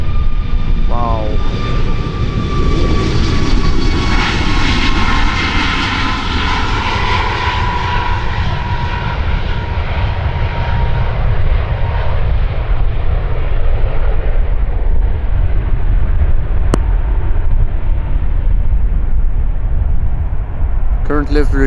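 Icelandair jet aircraft departing runway 36L at Amsterdam Schiphol, a loud continuous engine roar with a falling whine that slowly fades as it moves away, with speech over it.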